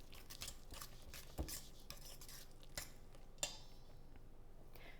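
Spoon stirring mashed bananas with ground flaxseed in a bowl, with scattered scraping clinks of utensil against the bowl, close and fairly quiet, no talking.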